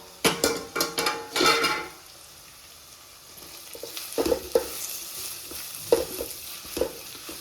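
Mutton liver kima with onions is stirred in a pan after the lid comes off. It opens with a burst of metal clatter, then turns to a soft sizzle with rhythmic spoon scrapes and knocks, and no voices.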